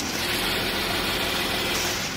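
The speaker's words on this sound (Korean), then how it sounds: "영상에서 들리시는 것과 같이 굉장히 정숙하고 규칙적인 엔진 사운드 들려주고 있고요." A Kia K9 sedan's 3.3 GDI engine idles with the hood open, giving a steady, quiet, even hum recorded close up with no talking.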